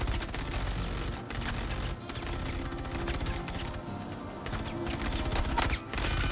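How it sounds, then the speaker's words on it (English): Gunfire in the space sim game Star Citizen, a dense, loud run of overlapping shots and bursts with only brief gaps. "I see shooting."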